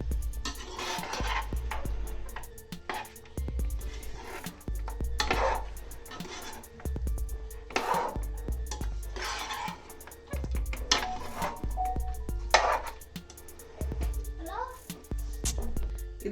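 Chicken and rice for chicken mandi being stirred in a pot, with repeated scraping and metallic clinks of a spoon against the pot in irregular bursts, close and fairly loud.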